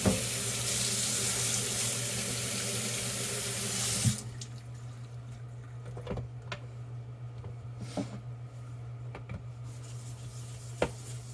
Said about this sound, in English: And rinse off the stones and go at it again.